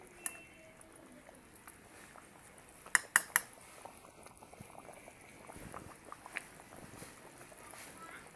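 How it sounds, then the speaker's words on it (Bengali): Mutton pieces boil in a pot with soft, continuous bubbling, broken by a few sharp metallic clinks of a spoon or utensil partway through, all fairly quiet and close. "মাংসটা এই ফুটছে"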